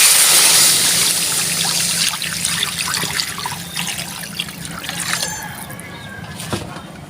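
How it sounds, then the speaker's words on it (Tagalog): Water is poured into sautéed beef feet for balbacua, starting as a loud, close splashing stream that eases into a softer trickle and bubbling, with no talk. "Maglalagay na po tayo ng tubig."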